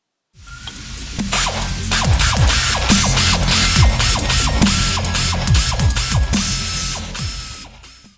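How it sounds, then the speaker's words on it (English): Rapid ratcheting clicks from a torque wrench tightening prop shaft fixings on a Land Rover Defender, a steady close-up run of mechanical pawl clicks lasting several seconds with no talking. "nip the fixings up before using a torque wrench set to 33 Newton meters"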